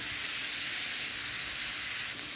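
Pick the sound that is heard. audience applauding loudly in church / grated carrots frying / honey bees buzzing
grated carrots frying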